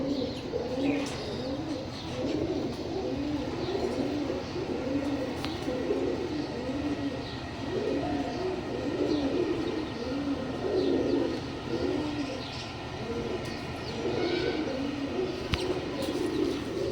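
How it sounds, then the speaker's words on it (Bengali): Martin neck pigeons coo in soft, repeated low bursts that run steadily throughout, fairly close, with faint chirps and background hiss and no talk. "আসলে এই কবুতরটা আমার নিজস্ব তৈরি করা একটা ব্রিড"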